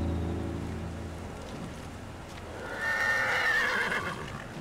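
A horse in the video game Ghost of Tsushima, a white horse, gives a fairly loud neigh near the end, following softer hoof clops and ambient game sounds at the start.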